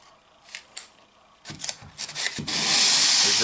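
Drywall sanded by hand with sandpaper during a cheap patch repair, a few scattered scrapes that build into a loud, continuous abrasive rubbing heard up close.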